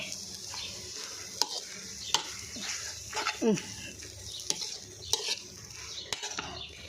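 Food sizzles in a hot pan while a utensil scrapes and clacks against the metal in irregular strokes, with a voice briefly audible nearby.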